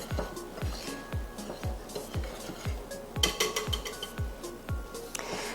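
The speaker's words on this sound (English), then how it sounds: "we're going to whisk this all together just until it's combined" A whisk beats dry biscuit ingredients of flour, granulated sugar and salt in a bowl, tapping out a quick, steady series of dull knocks with soft scraping, close and moderately loud, with no talking.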